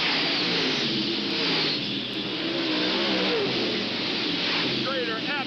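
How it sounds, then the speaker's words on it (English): Stock cars race at Hales Corners Speedway in 1995, a continuous loud engine roar sweeping past with rising and falling revs, heard under an announcer's voice calling the race. "Now Schrader in the top portion of the speedway goes after the number 25 Stones automobile as Fitch continues to lead"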